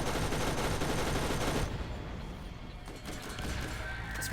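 Missiles and rapid gunfire from Borderlands hammer at the player in a loud, dense barrage that fills the first second and a half, then thin into scattered shots and bursts.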